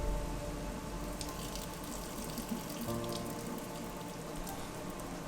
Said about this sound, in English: So right now I'm gonna turn off the heat and then I'm gonna drain out some of this juice